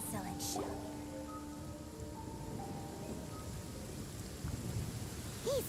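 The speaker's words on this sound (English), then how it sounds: "Oh, lightning coming down in." Thunderstorm in the Genshin Impact video game, with steady rain hiss and low rumbling thunder throughout, a few brief game chimes and effects on top, no speech.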